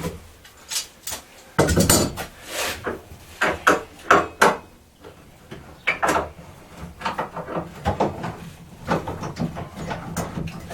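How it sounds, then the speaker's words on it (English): Woodworking clamps being loosened and removed from a scrap-wood saw stand, a run of close, irregular wooden knocks, ratcheting clicks and metallic clatters with short pauses between, no talk. "Release the clamps"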